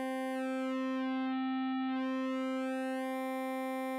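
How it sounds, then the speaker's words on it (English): An Elektron Digitone II synthesizer playing a wavetone patch with phase distortion. A steady buzzy tone with strong harmonics and a thin high fuzz layered over it, sustained and alone at moderate volume. "there's this additional kind of high-pitched fuzz that you're getting in there."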